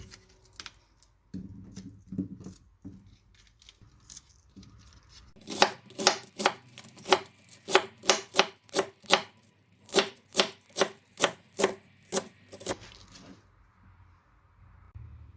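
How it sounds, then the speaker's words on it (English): A knife roughly chops bok choy on a board: after some soft handling noises, a run of crisp, evenly spaced chops comes in two bursts before stopping. No one speaks. "Chop them both roughly. Keep the white and the green part of the bok choy separately."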